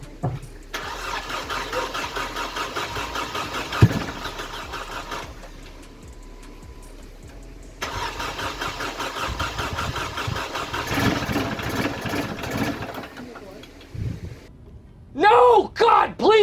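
A Mercedes-Benz with an M271 engine, after timing chain work, cranks repeatedly with a rhythmic whirring churn, pausing and trying again without catching; a brief voice cuts in near the end.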